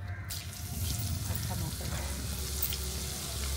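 Garlic, cumin and whole spices crackle and sizzle in hot oil in a pot over a village wood-fired stove while mutton is being cooked, a steady close frying hiss with brief pops and low stove rumble throughout.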